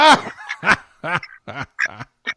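A pet duck gives a series of about seven loud, nasal quacks close by, spaced unevenly in a quick run, with no talking over them.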